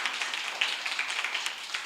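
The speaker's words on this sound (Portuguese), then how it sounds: "Dê uma salva de palmas para Jesus." A church congregation applauds, dense, brisk clapping from many hands that holds steady for a couple of seconds.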